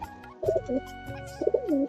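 A domestic house pigeon coos nearby, with two soft, throaty, rolling coos separated by a short pause. The sound is clear and alone, with no talk.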